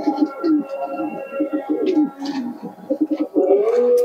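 A Giribaz-line pigeon coos close by in repeated soft, throaty rolling phrases that run almost continuously, with faint chirps and household noise behind.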